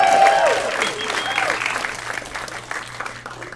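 Stand-up comedy club audience claps and cheers, the applause loudest at the start and gradually thinning, with a performer's voice heard speaking under it.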